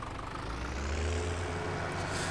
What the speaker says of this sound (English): I do like the noise of this tractor.